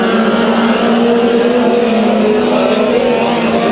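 Race cars roar continuously through a speedway heat race at Bakersfield Speedway, a loud, steady engine drone with a sustained pitch, heard close and without speech.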